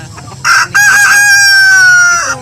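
A rooster crows loudly and close by in one long drawn-out call, with free-range layer hens clucking softly underneath.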